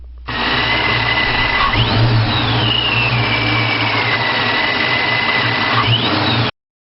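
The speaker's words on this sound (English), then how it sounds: "Take a listen to the sound of a centrifugal vortex supercharger." A steady high mechanical whine from a centrifugal supercharger over a running engine, pitch sweeping up, easing down slowly, then rising again near the end before cutting off abruptly.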